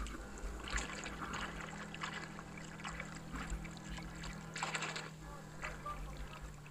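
A small RC fish finder boat's motor runs on open water, a steady low drone with water churning and splashing throughout, moderately close, with no voices.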